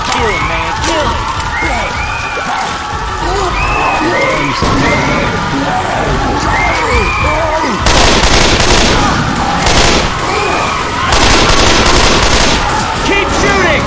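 Rapid sustained gunfire from automatic weapons blasting at the Tank in the zombie game Left 4 Dead 2, loud and continuous with dense bursts, while players shout over it.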